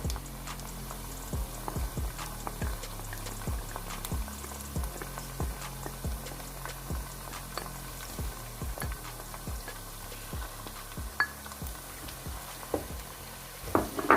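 Tomatoes and ginger-garlic paste fry in a pan for chicken biryani, a steady, quiet sizzle under regular scraping stirs that repeat about twice a second, with no talking.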